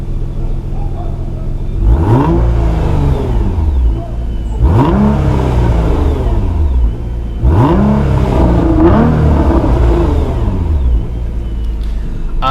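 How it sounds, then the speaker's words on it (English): A Nissan GT-R fitted with an Armytrix exhaust, valves closed, revs three times in deep, rising and falling roars over a steady rumbling idle, loud and close. "Now let's make a couple of revs with the valves closed."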